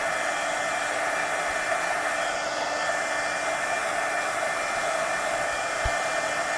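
A hair dryer blows steadily and loudly throughout, drying a mixed media napkin art journal page, front and back, with a constant close whooshing hiss and no talking.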